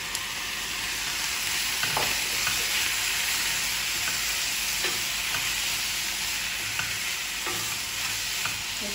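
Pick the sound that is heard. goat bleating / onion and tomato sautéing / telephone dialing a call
onion and tomato sautéing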